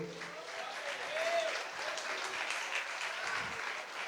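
A church congregation claps during an evening worship service, a soft, steady wash of applause heard at a distance, with faint tonal sounds from the room in the background.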